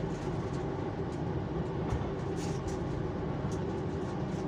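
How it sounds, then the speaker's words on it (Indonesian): KA Jayakarta passenger train pulling out of Cikampek station, a steady close rumble of rolling wheels and carriage noise filling the whole stretch without pause, no voices. "KA Jayakarta diberangkatkan kembali dari stasiun Cikampek"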